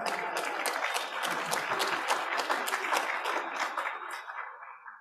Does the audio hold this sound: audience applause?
yes